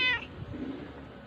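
A pet cat gives a short, fairly close meow, then quiet room tone follows, with the whine of a revving moped somewhere in the background.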